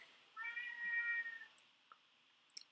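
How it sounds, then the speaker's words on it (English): A cat on a porch lets out one drawn-out, fairly soft meow, rising and falling and then trailing off into quiet, with no talking over it. "Be quiet, cat, please."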